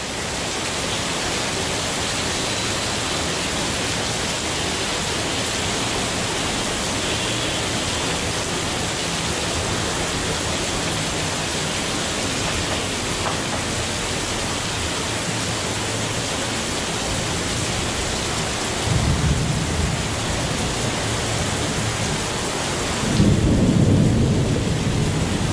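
A cloudburst in Pune pours down as a dense, unbroken roar of heavy rain, loud and close throughout, with deeper rumbling surges of thunder rising near the end.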